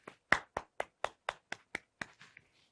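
A short burst of hand clapping in an English-lesson classroom: about ten crisp claps in a steady rhythm, each one distinct, fading toward the end, close and fairly quiet, with no voices.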